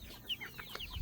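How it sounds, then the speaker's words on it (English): Game hens and game pullets in a barnyard give a few soft, short clucks and chirps, faint and close together, over quiet background noise. "we got some game hens, game pullets"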